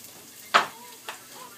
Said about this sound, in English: And now I'm going to stir this up.